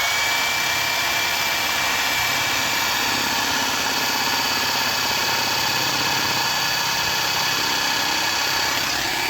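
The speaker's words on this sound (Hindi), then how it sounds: "नॉर्मल ड्रिल में ये काफ़ी ज़्यादा समय ले लेगा।" A Hilti power drill running in normal drill mode gives a steady, loud, continuous whirring grind that holds evenly from start to finish, with no talking.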